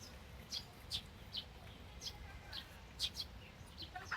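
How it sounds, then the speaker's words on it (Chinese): Birds call outdoors on a university campus, giving bright, short chirps in an irregular series at a moderate distance over a soft ambient hum. No voices are heard. "我觉得学校里的这个鸟叫的声音特别治愈"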